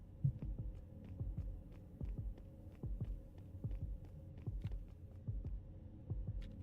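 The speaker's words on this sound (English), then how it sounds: "I can hear his heartbeat." A heartbeat in the video game Punishing: Gray Raven throbs in a steady, even rhythm of low, soft thumps over a faint background hum. The beats continue without voices.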